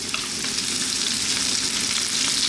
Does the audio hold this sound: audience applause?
no